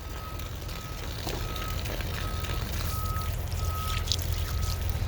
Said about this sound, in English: let the water rush down my hand all the way down to my elbow